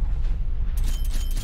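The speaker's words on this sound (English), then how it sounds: "Hostile artillery targeting active. Artillery inbound." Artillery strike in Call of Duty Cold War: a low, rumbling blast heavy in the bass, swelling into a broader crashing burst about halfway through, with no talk over it.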